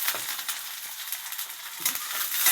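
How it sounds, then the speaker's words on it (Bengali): Onion frying in a pan with a steady, close hiss and light crackle throughout, plus a couple of soft low knocks from stirring. "পেঁয়াজটা ভালো করে ভেজে নেবেন"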